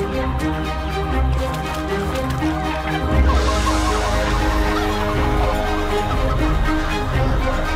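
Angry chickens in the intro of the space-battle game Conflicks, loud honking fowl calls over a steady droning musical backdrop, continuous and close.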